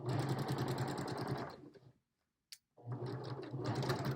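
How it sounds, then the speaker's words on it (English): A sewing machine stitches two face masks together in steady, fast whirring bursts: one long run, a brief pause with a small click, then a second run, close and loud. "we're going to put it on the machine, and we're going to go ahead and sew it."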